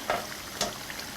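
Potato-dough fries cooking in hot oil give off a steady close sizzle with a couple of brief crackling pops, no voices over it.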